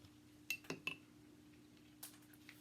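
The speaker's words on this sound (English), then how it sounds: "I'm going to give this a quick stir." A spoon stirs and clinks against a container, giving a few sharp metallic taps close together near the start and another faint clink later, over quiet room tone.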